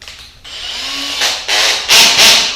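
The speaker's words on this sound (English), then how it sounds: "It's got a drive mode where you just drive the screw in" A Makita 18V cordless drill in drive mode, set with its adjustable torque clutch, runs up in several rising whirring bursts as it drives a screw, getting louder toward the end with no talking.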